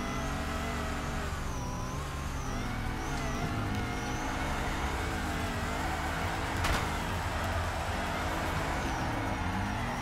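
A 350 engine in the Torque Drift racing game revs continuously, a steady loud droning roar with rising and falling pitch sweeps as the throttle works, no talking over it.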